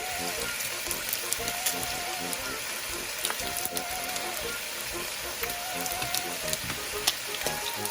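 Dried milkfish, daing na bangus, frying in a pan for a Filipino breakfast, a steady close sizzle with scattered sharp spatters and crackles.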